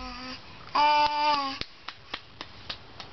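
A baby claps his hands, a run of soft, evenly spaced slaps close by, following a short burst of a voice at the start.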